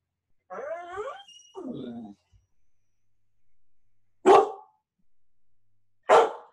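Dogs barking in a home at the end of a call, two sharp loud barks spaced apart after a stretch of talking and quiet.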